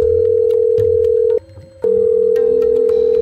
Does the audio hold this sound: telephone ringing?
yes